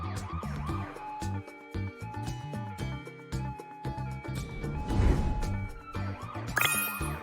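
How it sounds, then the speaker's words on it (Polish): A police car siren in a children's cartoon about vehicles, wailing steadily and loudly over bright, busy cartoon music with a crash-like burst near the end. "Radiowóz policyjny."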